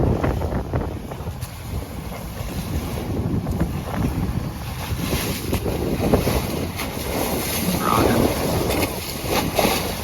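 Wind and sea rush in through an open porthole of a sailboat crossing the Sea of Cortez in 14 to 15 knots of wind, a continuous roaring blend of gusts and water wash.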